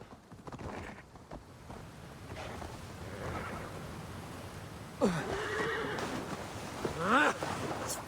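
A horse neighs and whinnies in a video game, loud rising-and-falling calls twice near the end over a steady game background, with faint hoof clip-clop earlier and no talk.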